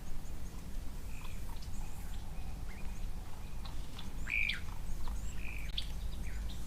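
Weaver birds, star weavers, calling around a waterhole: scattered short chirps and squawks, some nearer and louder, over a steady low outdoor rumble with no talk.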